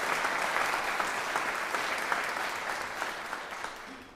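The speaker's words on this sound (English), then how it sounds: "let's start out by giving Major General Jeffries another round of applause." Steady, sustained audience applause for Major General Jeffries at a UM AFROTC graduation ceremony, a dense wash of many hands clapping that holds fairly evenly and eases slightly toward the end.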